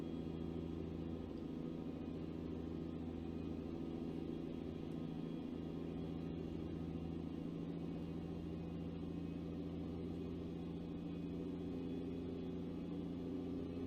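A heavy truck engine in American Truck Simulator pulls through a high gear after a shift, a steady, close, low diesel drone that holds fairly constant, with no talking over it.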